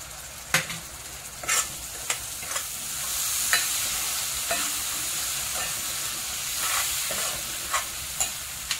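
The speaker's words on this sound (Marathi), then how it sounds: "नंतर हे टोमॅटो प्युरी आहे हे टाकते." Tomato puree hitting a frying chicken kofta curry masala in the pan, a steady close sizzle with repeated stirring scrapes and light utensil knocks at irregular intervals.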